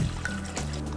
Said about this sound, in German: Wir brauchen jetzt noch 400 Milliliter Wasser.